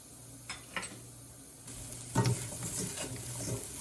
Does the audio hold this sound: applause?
no